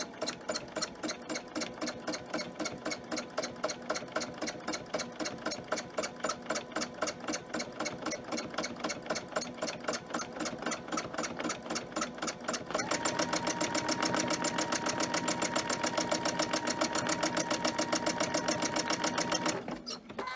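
A sewing machine free-motion quilting fabric for a bag runs close up in a rapid, even stitching rhythm, then shifts to a faster, denser whir near the end, with no talking.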